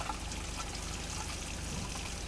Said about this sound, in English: Water is hot and cold at the kitchen. Just run it until it gets good and hot.